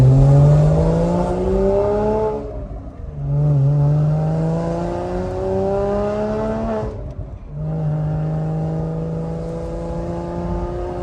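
Porsche engine accelerating hard through three rising gear pulls, each climbing whine broken by a brief dip at the shift, loud and close with no talking.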